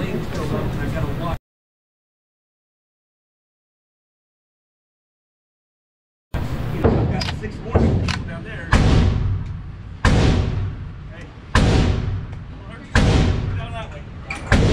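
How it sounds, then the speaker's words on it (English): A GSG-16 .22 caliber rifle with a plastic body fires about eight loud, close shots at a roughly even pace after a stretch of silence, each sharp report fading into a brief tail. "Let's shoot it and see what happens."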